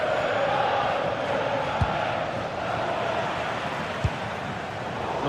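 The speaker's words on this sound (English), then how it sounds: "The crowd certainly think so. Just listen to that noise." Stadium crowd noise in a football video game, a broad continuous roar of massed spectators with no individual voices standing out, steady and fairly loud with two faint sharp knocks.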